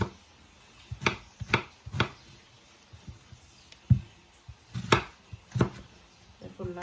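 A knife chopping through fresh pineapple on a board, about a dozen sharp close cuts in an uneven rhythm with quiet pauses between them.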